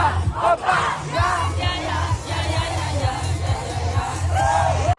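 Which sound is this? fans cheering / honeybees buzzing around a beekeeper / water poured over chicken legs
fans cheering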